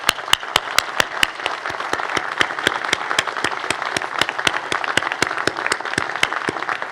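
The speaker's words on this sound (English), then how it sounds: "we're going to take a moment to give you the applause you deserve" Crowd at a law school commencement ceremony applauds graduates with a steady wash of clapping, punctuated by a close, sharp, evenly timed clap from one nearby person that repeats roughly every quarter second.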